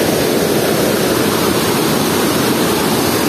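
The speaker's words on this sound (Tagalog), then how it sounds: "pag bumagsak yung tubig dyan, umiikot" A steady, loud roar of water pouring over Wawa Dam and churning below fills the scene without a break. It sounds like a dense, close rush of falling water with no voices.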